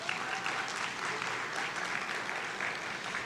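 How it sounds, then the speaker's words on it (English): Audience applause at the opening ceremony of a conference, steady and dense crowd clapping that fills the whole stretch at moderate volume. "Let me pause for the applause."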